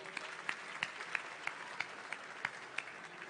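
Audience applause at a Web Summit 2023 Q&A stage session on startup pitching, heard as faint, distant, sparse clapping with a few sharper individual claps at a steady pace.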